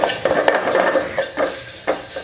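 Mustard seeds and curry leaves tempered in hot oil for rasam, with turmeric and asafoetida: soft sizzling with repeated scraping and stirring of a utensil against the pan, close and fairly quiet, with no voices.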